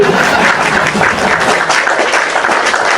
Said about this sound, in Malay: Lama pula tepuk tangan ni bunyi. Ramai ke tepuk tangan.